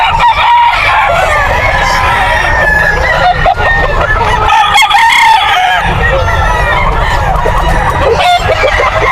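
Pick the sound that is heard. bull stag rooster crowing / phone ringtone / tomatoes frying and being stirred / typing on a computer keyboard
bull stag rooster crowing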